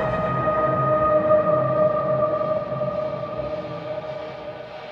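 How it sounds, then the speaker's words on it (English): A jarring sound design texture for trailer music drones with sustained tonal layers over a grainy, rumbling bed, loud and steady with no distinct hits, slowly easing off. "these little jarring sound design textures were good to layer with some of the hits."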